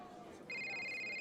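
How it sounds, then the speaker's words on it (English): Electronic phone ringtone in the Tennis Ace video game, a steady bright tone that starts abruptly partway through and holds on over a quiet background. "Oh, my phone's ringing."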